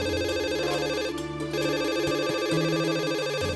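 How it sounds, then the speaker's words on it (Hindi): A telephone rings with a continuous warbling electronic ringtone, loud and close, repeating steadily throughout with no talk over it. "केकर फोन आइल?"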